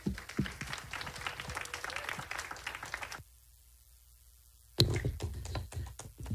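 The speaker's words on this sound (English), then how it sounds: "let's give another round of applause for Gideon" Audience applause at a religious talk: dense clapping from a crowd for about three seconds, a sudden gap of silence, then clapping resumes, moderately distant.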